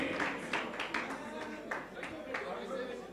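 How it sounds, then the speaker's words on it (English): A crowd applauds for a team at a MAKEOVER 2020 event, with scattered claps running steadily through three seconds at moderate distance, mixed with voices. "Big round of applause for MAKEOVER."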